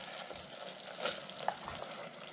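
Vegetables sautéing in oil in a pan for a tomato noodle soup, a steady soft sizzle and frying hiss with a few faint stirring clicks, close and alone with no voices.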